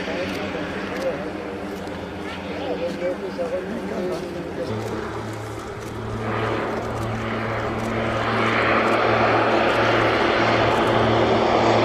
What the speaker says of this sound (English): The North American Rockwell OV-10 Bronco is an American twin-turboprop light attack and observation aircraft.